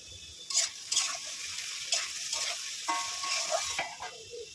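Oil sizzles steadily in a pan as potatoes are fried, with a few scraping stirs and clinks breaking through the hiss; no one speaks.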